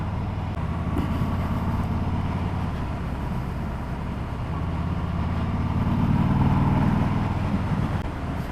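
A 2018 Harley-Davidson Breakout motorcycle on the move along damp early-spring UK roads, its engine a steady low rumble with wind noise that swells slightly toward the end, no talk.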